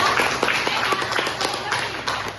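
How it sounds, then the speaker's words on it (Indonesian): Classroom students give a short burst of clapping for a group after its presentation, a brief patter of hand claps under a teacher's voice. "kasih tepuk tangan untuk kelompok 2"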